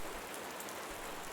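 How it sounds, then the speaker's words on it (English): Steady rain falling on a surface, a dense even hiss of droplets with no voices, loud and constant throughout. "Let the rain ease into the gentlest drizzle now, the kind that kisses the windows instead of beating them"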